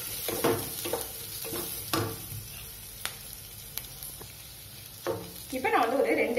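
Green chilies, slightly ripened and turning red, and curry leaves fry in a hot pan for tomato kuruma, giving a steady close sizzle with a few sharp stirring scrapes and clatters, louder near the end, with no talking.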